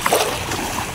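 Splashing in sea water at Humagob Beach in Bacacay, Albay, a brief close churning splash of surf lasting about a second, with no talk over it.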